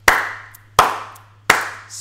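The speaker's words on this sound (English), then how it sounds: "Slow clap" Three slow, deliberate hand claps spaced about three quarters of a second apart, each sharp and close with a short ringing tail, in an otherwise quiet room.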